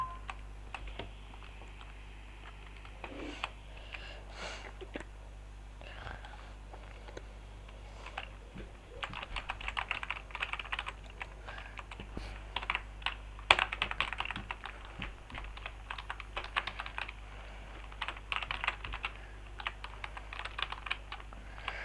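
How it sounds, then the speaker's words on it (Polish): Quiet computer keyboard typing, rapid irregular key clicks in bursts, close by, over a low steady hum. "Kocham dźwięki klawiatury"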